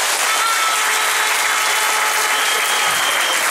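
A rally crowd claps loudly and continuously, a dense, even wash of applause from many hands with no pauses for the whole stretch.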